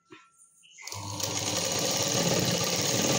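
Sewing machine stitching a sleeve onto a readymade dress, starting after a few soft handling clicks and then running in a steady, loud, continuous mechanical whir up close.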